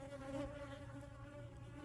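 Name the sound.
honey bees buzzing at the hive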